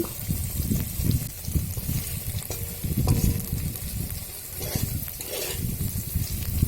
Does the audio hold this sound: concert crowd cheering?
no